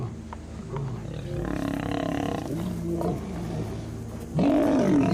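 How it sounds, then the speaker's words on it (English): A lion roars loudly and close by, a deep rumbling roar that swells and holds for several seconds before a sharper, louder burst near the end, with no talking. "It felt like the car was vibrating from this roar."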